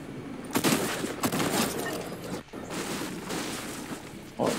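Gunfire in a Fortnite match, with dense bursts of shots and impacts that keep going almost without pause across the whole stretch, loud and busy, a few sharper cracks standing out and no talk over them.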